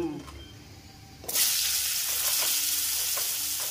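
Sliced pointed gourd (parwal) drops into a hot frying pan, setting off a sudden loud, steady sizzle that stays broad and even, with a few light stirring knocks beneath it.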